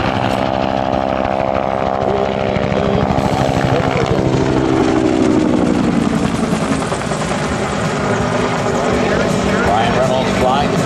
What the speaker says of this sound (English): Sound that you hear from the Huey Cobra is caused by the forward blade going almost supersonic.